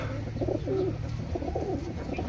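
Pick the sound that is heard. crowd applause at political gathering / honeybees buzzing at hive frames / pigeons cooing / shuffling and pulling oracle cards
pigeons cooing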